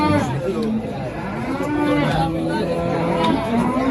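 Cattle lowing at a busy livestock market, several overlapping moos near and far rising over a constant background of crowd chatter and people talking.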